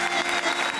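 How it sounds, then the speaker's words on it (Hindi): Audience applause at a comedy stage show breaks out in a steady, dense wash of clapping for a short burst, loud and continuous with no voices on top. "जोरदार तालियां"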